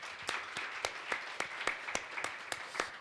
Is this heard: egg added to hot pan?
no